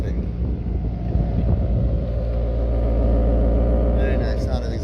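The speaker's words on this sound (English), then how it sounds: "Very nice sound of exhaust." A low, steady exhaust rumble comes from a 2017 Maserati GranTurismo while it is driven, heard from close by with some wind buffeting over it throughout.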